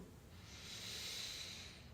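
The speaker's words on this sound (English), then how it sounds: "So breathing in for 2" A slow, steady inhalation through the nose during a guided breathing exercise, a soft airy hiss that swells and fades over two seconds, quiet and close.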